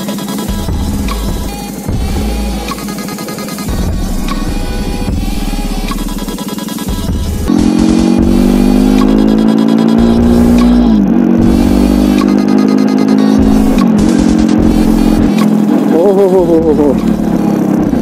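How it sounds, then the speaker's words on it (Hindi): A Jawa 42 motorcycle engine starts, then revs with a rising, steady drone from about halfway through, fairly loud and close, with people talking over it. "ये जावा 42 है, और इनमें अभी भी वो रेट्रो की है, तो इधर से डाल के इग्निशन स्टार्ट करना पड़ता है।"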